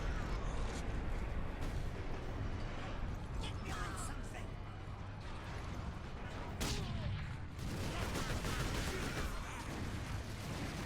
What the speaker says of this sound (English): I decided to swap over to the grenade launcher here just for a second, just to kind of clean up these enemies